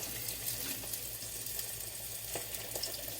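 Chicken frying in Crisco in a cast iron skillet for old-fashioned Southern fried chicken gives a steady, close hiss of bubbling fat with faint crackles and a low hum underneath, and no one speaks.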